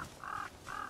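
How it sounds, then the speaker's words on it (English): A bird in the video game Project Zomboid caws twice, two harsh drawn-out calls with a short gap between them, fairly close and clear with no talking. "Oh, don't you laugh at me, bird."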